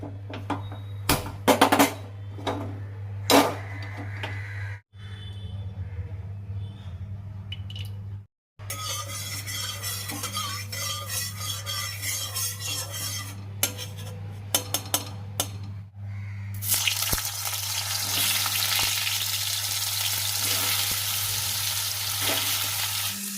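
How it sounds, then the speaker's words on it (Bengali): Pointed gourd (potol) pieces frying in oil in a pan, a steady loud sizzle with clinks and scrapes of a spatula early on, then a brighter, more intense hiss as frying picks up, close by. "চলো ওদিকে আমি পটলটাকে ভাজতে দিই"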